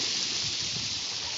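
Water from an indoor waterfall inside a museum in Amsterdam splashes in a steady, dense rush, a continuous hiss of falling water close by with no voices over it.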